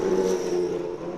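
A Porsche race car roars past at Silverstone during the 6 Hours endurance race, a brief loud engine drone with a shifting tone as it passes close.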